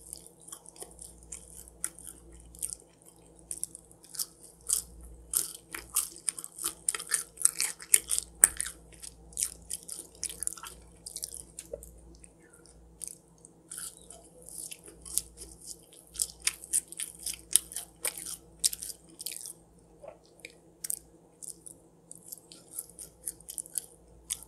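Someone eats a Five Guys bacon cheeseburger and fries, with close, wet chewing and crunchy bites recurring irregularly throughout over a quiet room hum, with no talk.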